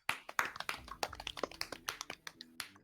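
A small group claps briefly at a sim racing championship final, a quick scatter of sharp, uneven hand claps at close range over about three seconds.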